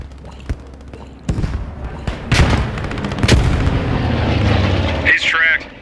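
Rifle fire in a trench close-quarters combat video game, with several sharp, loud shots and booming impacts spaced irregularly, while players talk over the action.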